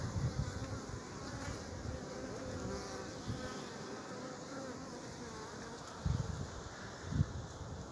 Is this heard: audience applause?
no